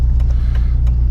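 A Dodge Neon drives on the road, with a steady low engine and road rumble heard from inside the car, loud and continuous with faint ticks above.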